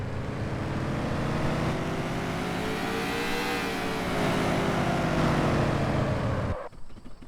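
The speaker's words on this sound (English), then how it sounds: "The car was just going wide open." A car engine in Car For Sale Simulator 2023 holds at wide open throttle, a loud sustained drone rising slightly in pitch before cutting off abruptly near the end.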